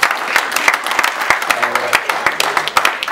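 Church congregation clapping steadily and loudly, a dense rhythmic applause with voices mixed in, filling the space at close range.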